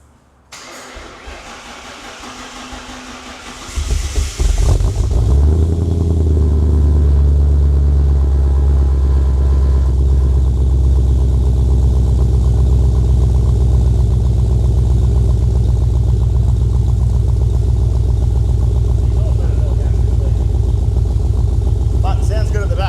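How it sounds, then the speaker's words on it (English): Ford AU XR8 V8 jump-started with a brief crank, catching into a loud, steady, deep rumbling idle that holds for the rest of the stretch, with a faint voice briefly over the start. "So I'm gonna have to jump start it again because I didn't charge the battery."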